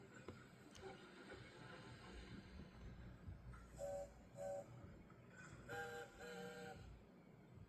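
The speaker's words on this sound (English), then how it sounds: "Let's test the whistle." Short whistle toots from a Thomas and Friends engine in the High Up in the Hills video game, several brief tonal blasts in a row over a steady rumbling train background, with faint voices.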